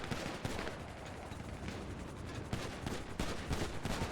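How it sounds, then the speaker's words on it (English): Rapid bursts of video game gunfire fire at a chrome-colored helicopter, dense overlapping shots and booms crackling loudly throughout with no pause. "Shoot at that Chrome and color heli. Take it down."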